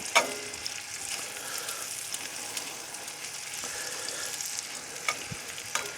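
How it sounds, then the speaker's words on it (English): Sweet onions cook down in a slightly too-small pan, giving a steady, close sizzle and crackle that runs the whole time, with a few soft scrapes and clinks of stirring. "It's just something about onions cooking, especially these sweet onions"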